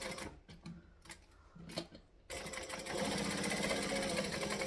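Sewing machine stitching a bag panel with a back stitch: a few short separate bursts of needle action, then a loud steady run of rapid mechanical stitching close up.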